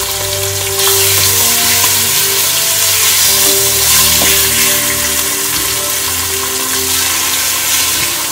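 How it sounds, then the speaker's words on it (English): Chicken pieces fry in oil in a pan for gumbo, a loud, close, steady sizzle running the whole time with occasional scrapes as the pieces are slid around the pan. "I'm gonna put the chicken in here piece by piece. When I put it in, I'm gonna slide it around, get a little oil under it so it don't stick."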